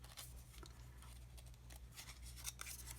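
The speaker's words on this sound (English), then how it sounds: "I cut it right along the fold line and set one aside" Scissors snip through a folded sheet of paper, cutting along the fold line in a steady run of close, crisp blade strokes over a low constant background hum.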